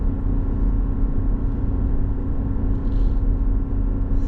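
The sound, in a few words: GMC Yukon Denali diesel engine running high RPM downhill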